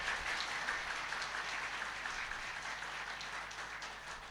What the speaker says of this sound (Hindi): एक बार जोरदार तालियों के साथ स्वागत करें श्री महाराज जी का।